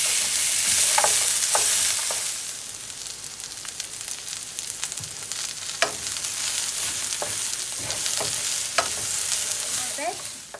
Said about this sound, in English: We're going to add our sweet peppers, and after a couple of minutes, we're going to add some salt and pepper